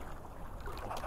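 A distant motor boat hums at sea near a fish aggregating device, its engine a faint steady drone under heavy wind buffeting and water noise.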